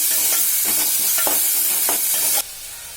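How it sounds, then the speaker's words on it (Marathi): Chopped onion and tomatoes sautéing in oil in a pan for a black-eyed pea and potato curry, loud close sizzling broken by several spatula stirs, then the frying suddenly drops quieter near the end. "थोडा मऊ झाल्यावर ह्यामध्ये 2 बारीक चिरलेले टोमॅटो घालूया, परतून घेऊया"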